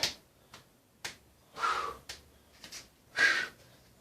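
Hand claps made in a mobility routine, alternating in front of and behind the body: several sharp, separate slaps with uneven gaps between them, close and fairly quiet, heard alone without talk.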